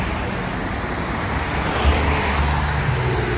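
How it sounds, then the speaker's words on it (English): A continuous roar of downtown Chicago street traffic at rush hour on a foggy winter day, cars and engines blending into a dense wash with a heavier vehicle rumbling past midway. "Lots of traffic, just people are getting off work."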